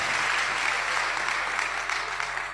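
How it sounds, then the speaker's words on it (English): A church congregation claps together in a sustained, even roar of many hands, holding steady before easing slightly at the end. "Clap for Jesus Christ."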